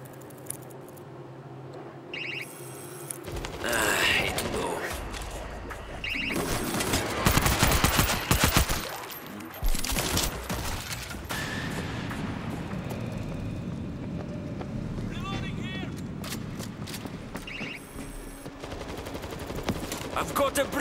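Rapid gunfire in the World War Z Aftermath video game, with dense bursts of automatic shots swelling in the middle amid other combat noise, and voices calling out briefly.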